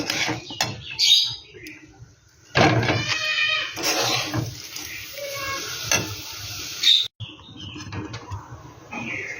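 Rice being sautéed in a pan for Bengali egg pulao, with scraping stir strokes and a soft sizzle that come in bursts, loud and close, broken by short pauses.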